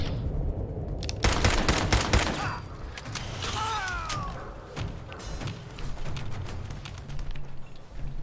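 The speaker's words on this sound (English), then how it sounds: "Who's shooting me?" Rapid bursts of gunfire from enemy raiders in Fallout 4, loud and close, with heavy volleys at the start and scattered shots and clatter continuing after.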